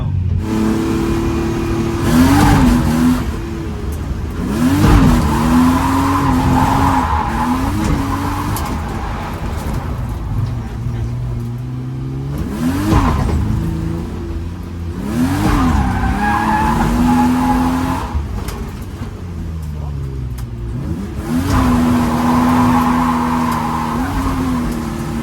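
A drift car at Drift Evergreen sliding through corners, engine revving hard with repeated bursts of tire squeal and skidding, loud and close, cycling through several passes.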